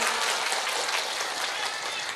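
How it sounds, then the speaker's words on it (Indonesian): Applause from a women's religious gathering in Indonesia, a soft, even patter of many hands clapping that sounds fairly distant and carries on throughout without speech. "Ya tepuk tangan sekali lagi."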